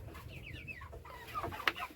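Hens on a small poultry farm cluck in short, soft bursts against a steady background murmur, with one sharper squawk near the end.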